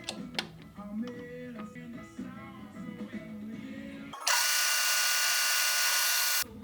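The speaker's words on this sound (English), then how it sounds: "I just need to drill this tube out a little bit so this will fit in there" A power drill bores out a small tube for a homemade license plate light, starting with a whirring, uneven spin, then breaking into about two seconds of loud, harsh, steady grinding close by.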